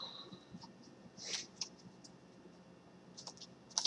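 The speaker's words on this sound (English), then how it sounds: "I'm going to shuffle up these cards and we're going to get going." Tarot cards being shuffled by hand in a quiet room, with a few soft riffling and flicking bursts and light clicks spread across the stretch, faint and close.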